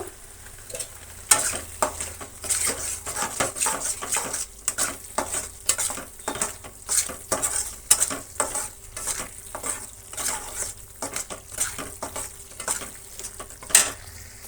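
Water apple pieces frying in a pan while being stirred, a constant crackling sizzle punctuated by frequent, rhythmic scraping and tapping strokes of a spoon against the pan, close and fairly loud throughout.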